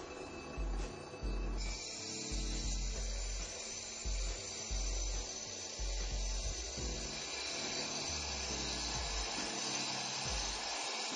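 Turbo Max 7 concrete grinder spinning up and grinding concrete, a steady close machine whine with low rumbling pulses and scraping, continuous throughout with no talk.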